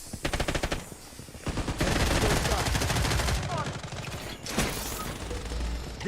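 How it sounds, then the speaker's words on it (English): In the video game Blood Strike, a defensive turret fires rapid bursts of automatic gunfire, a quick rattling stutter, then sustained loud volleys with brief pauses, mixed with mechanical clatter and game sounds. "Defensive turret activated."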